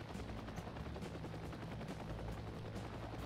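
Helicopter in the combat game Heliborne, a continuous rotor thrum with a fast chopping pulse that stays steady and moderately loud throughout.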